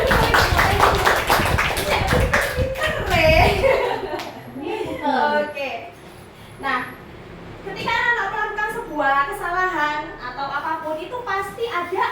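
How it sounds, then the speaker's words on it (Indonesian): Classroom hands clapping in a loud burst of applause for a few seconds, with children's chatter and laughter mixed in, then giving way to a teacher talking. "tepuk tangan"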